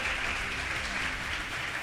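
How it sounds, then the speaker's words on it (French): Steady, dense applause from a studio audience at a school quiz show fills the whole moment, even and fairly loud with no pauses. "Saint-Louis de Bourdon, sous l'éclat de vos applaudissements"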